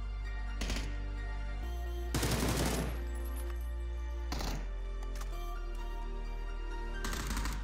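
A decoy grenade in PUBG fakes gunfire as several loud bursts of rapid automatic shots, spaced a second or two apart, over a steady low hum of game ambience.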